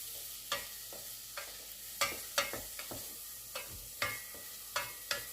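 Onion frying in a pan and being stirred, with repeated scraping strokes at an irregular rhythm over a steady low sizzle, close and moderately loud with no talking.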